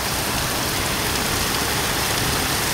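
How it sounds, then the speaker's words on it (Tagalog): Heavy rain pouring in Novaliches, brought by typhoon Cresing, a dense, constant hiss of water on surfaces that stays loud and even without pause. "Ngayon lang po lumakas ang ulan dito po sa Novaliches."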